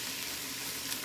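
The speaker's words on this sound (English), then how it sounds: "Always when we fry the meat, we don't mix it too much, we don't move it too much" About two pounds of filet beef cubes searing in a pan over high heat, a steady, even hiss and crackle of sizzling fat, close and uninterrupted with no talking.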